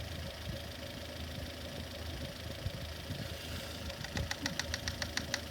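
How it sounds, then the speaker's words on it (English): Metal tapping on the front of a running car engine near the timing chain and valve cover, a rapid series of sharp, evenly spaced clicks over a steady idling hum. "I'm gonna tap the front of the engine by the top area where the timing chain is"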